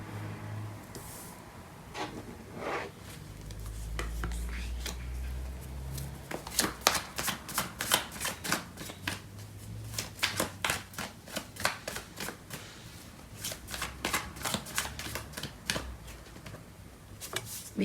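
Tarot cards being shuffled by hand, a quick series of crisp riffling flutters and soft slaps repeating in irregular bursts, close and clear with a low background hum.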